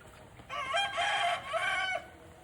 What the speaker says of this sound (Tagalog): Yung manok talaga.